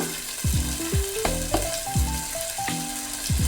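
Chopped ginger, green chilli and garlic frying in a pan for Kerala-style pork curry, a close, busy sizzle running throughout with stepped musical tones sounding over it and no voices.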